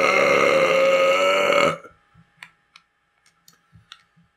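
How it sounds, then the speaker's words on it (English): A long, loud, close burp rolls for nearly two seconds, then stops, followed by scattered soft clicks and taps like game controller buttons. "It all comes down to burps and butts."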